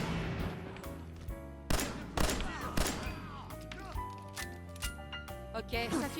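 Gunfire in the video game Fallout New Vegas, a scattered series of sharp, loud shots and impacts over a backdrop of music and game sound, with someone talking.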